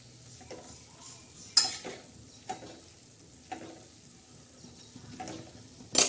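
Tandulja greens with green chillies, garlic and salt are stirred and sautéed on a griddle (tava), and a spatula scrapes sharply several times over a quiet sizzle.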